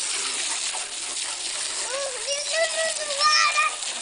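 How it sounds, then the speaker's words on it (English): Water is poured into a bird bath, making a steady hissing splash throughout while a voice chatters over it in the second half. "Put the water in the bird bath."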